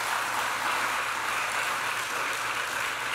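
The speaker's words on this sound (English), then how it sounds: "let's give him a round of applause" Dense, steady applause from an audience at a New York flood relief press event, honouring the regional CEO of the East New York Red Cross, sustained evenly at moderate loudness throughout.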